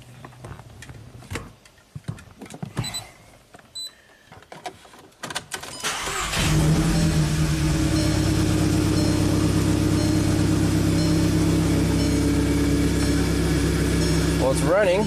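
A Volkswagen CC cranks and fires up, its start-stall, no-communication fault at issue, after a few seconds of clicks and handling noises. The engine then settles into a loud, steady idle that runs to the end.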